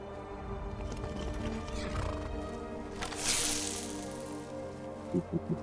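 A horse in the video game Skyrim, heard as a dense game soundscape with hoof and movement noise, a brighter burst midway and three short thumping hoof-like hits near the end, no talking.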